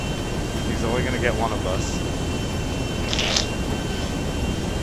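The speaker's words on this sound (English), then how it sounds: "Watching the plane come in." A video game airplane flies in as a steady, loud engine roar and rushing drone that fills the whole stretch, while someone talks briefly over it.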